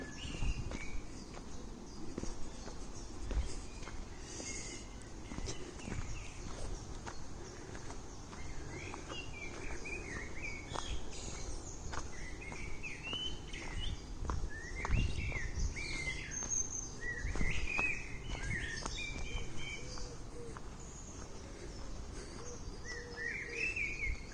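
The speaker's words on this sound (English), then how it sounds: "I hope you can hear once again the bird song in the background." Scattered chirps and trills from several birds in the distance in woodland, over quiet outdoor ambience with faint footsteps crunching along a path.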